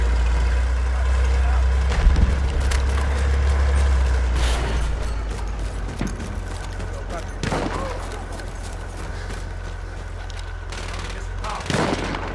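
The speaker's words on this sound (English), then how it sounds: "Machine gun, one of theirs. Machine gun over there!" A machine gun fires in Battlefield 1 during a battle on the Italian front, with scattered loud bursts and booms over heavy, rumbling combat noise while voices call out amid the fighting.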